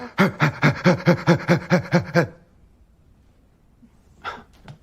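A person imitates a big dog barking, letting out about ten loud, evenly spaced woofing barks in a quick rhythm, then a pause and a brief voice near the end.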